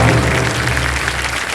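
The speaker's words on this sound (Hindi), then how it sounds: "जोरदार तालियां बज जाए इनके लिए।" Dense, steady applause from a studio audience fills the KBC game show set, loud and continuous for a moment of clapping with no voices over it.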